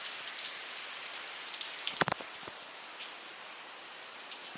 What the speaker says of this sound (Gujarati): આજે તો આ વરસાદ ચાલુ થઈ ગયો